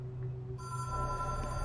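Telephone ringing in the video game Control, a steady electronic ring that starts partway through and holds on evenly over a low background hum, with no voices.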